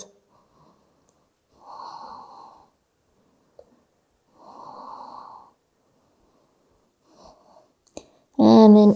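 Slow, deep breaths during a yoga session for wrists, neck and upper body, two long airy exhales a few seconds apart, heard close in a quiet room, followed by a brief louder breathy sound at the end.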